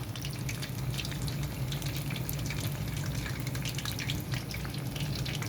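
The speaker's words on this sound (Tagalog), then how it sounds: "kanina pa ako nagpiprito" Steady, dense sizzling and crackling of chicken frying in hot oil, continuous and close throughout.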